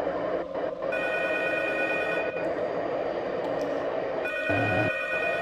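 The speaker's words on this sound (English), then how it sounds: "And there's the phone." A telephone rings in the horror video game P.T. (Silent Hills), heard as a steady, repeating electronic bell over a dark, droning ambient background.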